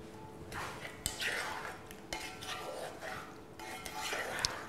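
Whole-wheat pasta with spring vegetables being stirred in a pan risotto-style, soft rhythmic scraping swishes with faint clinks, quiet and close.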